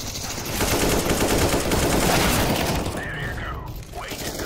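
Rapid automatic rifle fire from CS:GO on the Monastery map, with AK-47s in play, rattles in a dense, loud stream of shots that barely lets up across the moment.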